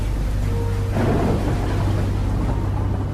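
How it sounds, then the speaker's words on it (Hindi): Thunder rumbles over light rain as a sound effect in a horror story, with a steady hiss of rain, a low hum underneath, and a broad thunderclap swelling about a second in before fading back into the rain. "धीमी धीमी बरसात शुरू हो गई। आसमान में काले बादल छा गए। बिजलियां कड़कने लगी।"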